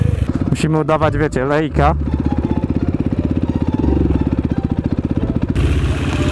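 KTM motorcycle engine while riding. Voices talk briefly at first, then the engine chugs in a fast, steady rhythm close by, with a brighter rush near the end.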